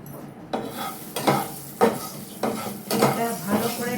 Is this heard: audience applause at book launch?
no